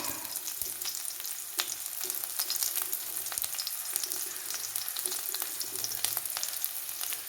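Onion dropped into hot oil after a mustard-seed tempering, frying with a steady, dense sizzle and crackle that runs continuously and close by, with no talking.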